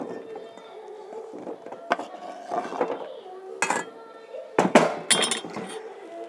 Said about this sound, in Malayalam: ചെറിയ പീസാക്കി എടുത്തിട്ടുണ്ട്. അതിനൊരു പാത്രത്തിലോട്ട് മാറ്റാം